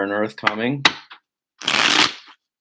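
A deck of cards is shuffled once at a table, a short crisp riffle lasting about half a second between bursts of nearby talking.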